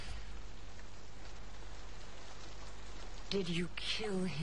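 Steady rain hisses across the whole recording, with a voice breaking in near the end.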